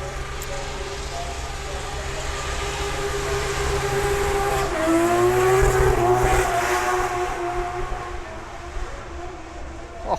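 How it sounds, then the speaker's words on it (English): A Nissan S15 drifts at Goodwood Festival of Speed, heard as a broad roar of engine and tyre noise with a rising engine pitch in the middle, swelling and fading amid a crowded outdoor event. "So we've got the drifting now."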